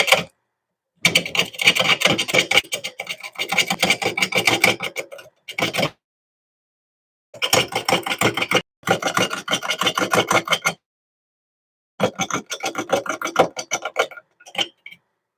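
A gouge cuts a wooden bowl spinning on a wood lathe, producing loud rasping scraping passes in repeated stretches a few seconds long, separated by silent pauses, heard up close.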